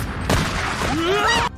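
Small bomb golems exploding in the anime Shangri-La: a sharp broadband blast bursts early, followed by crackling debris under a rising vocal cry.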